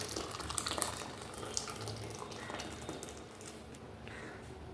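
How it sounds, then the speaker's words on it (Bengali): Hot water poured out for a small child in a home kitchen, a steady faint trickle of running liquid that continues throughout without a break. "বাচ্চাকে একটু জল দিই গরম জল"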